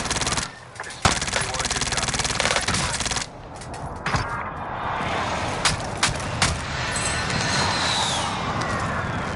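Gunfire in a video game: loud bursts of rapid automatic fire, first as a long dense volley and then as shorter separated shots over continuous battle noise.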